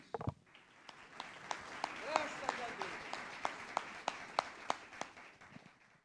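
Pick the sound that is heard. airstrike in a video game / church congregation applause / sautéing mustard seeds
church congregation applause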